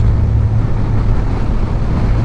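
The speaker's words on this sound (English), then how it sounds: "Oh, it's so windy today." Steady, loud wind roars and buffets against the microphone while cycling, a continuous low rumbling rush with no pauses.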